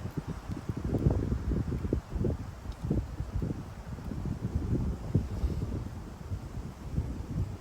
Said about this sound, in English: you can see the wind really started to pick up whenever he was putting